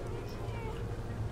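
A cat meows in the video game Deus Ex, a short close call heard together with a man's speech.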